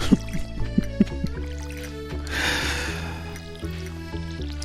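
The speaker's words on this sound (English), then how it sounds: "listen to the solitary sound of the water hitting the ground" Sparse water drops land one by one in Stardew Valley, a few sharp drips early on, over a low sustained musical drone and a soft watery rush.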